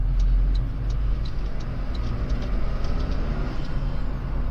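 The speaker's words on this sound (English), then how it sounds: "I like the blow-off valve." Toyota GR Corolla engine running inside the moving car, a steady low rumble with road noise and faint ticking, no distinct blow-off valve hiss standing out.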